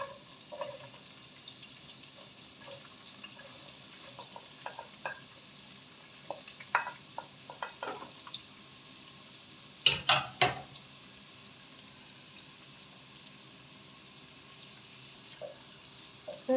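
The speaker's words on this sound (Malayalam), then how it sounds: "നന്നായിട്ട് മൂപ്പ് വരട്ടെ അതുവരേക്കും വഴറ്റി കൊടുക്കാം" Chopped onions sautéing in a pan for a potato and green peas curry, a soft steady sizzle with scattered scraping stir clicks and one louder clatter midway, no talking.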